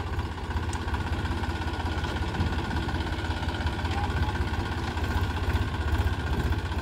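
A tractor engine runs at a steady idle-like drone while sugarcane is sown in 42-inch furrows in a field, with an even, unbroken mechanical rumble throughout.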